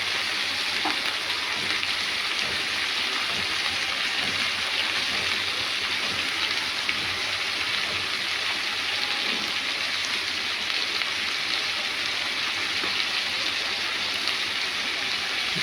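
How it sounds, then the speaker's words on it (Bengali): Cabbage and potatoes fry in a pan with a steady, even sizzle and hiss, broken by faint scrapes of stirring throughout. "বাঁধাকপিটা একটু নেড়ে নিই ভালো করে, একটু নেড়ে নিচ্ছি।"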